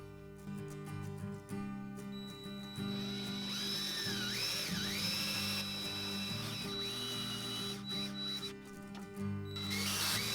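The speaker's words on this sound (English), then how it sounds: "We're ready to drill these corners out." A power drill whines steadily as it bores out corners in wood, its pitch dipping and wavering as the bit bites in.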